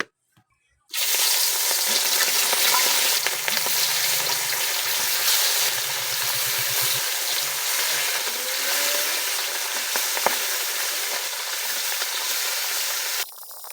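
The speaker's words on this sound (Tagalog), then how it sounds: "Tapos dito magpiprito na tayo na mga isda." Fish dropped into hot oil sizzle loudly and continuously in a rural home kitchen, the frying hiss starting abruptly after a quiet second and holding steady with small crackles and stirring, then cutting off.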